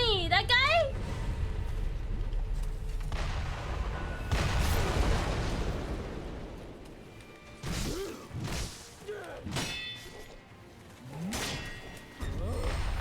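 Gunfire aimed at the player in the Sekiro video game, sharp cracks and booming impacts scattered through the first half amid clanking game effects, followed by sword clashes and swishes, with a player talking over it.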